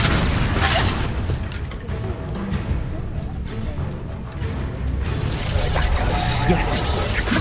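A Confringo explosive spell going off in the Hogwarts Legacy video game, heavy booming low rumble and crackling bursts running through the whole stretch, mixed with in-game noise and voices.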